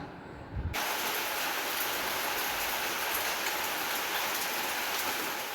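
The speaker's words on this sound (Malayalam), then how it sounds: "പുറത്ത് മഴ പെയ്തുകൊണ്ടേ ഇരിക്കുകയാണ് തിമിർത്ത് പെയ്യുന്നുണ്ട്" Steady, dense rain pours down without pause, a continuous hiss of drops hitting surfaces nearby, loud and unbroken after a brief quieter moment at the start.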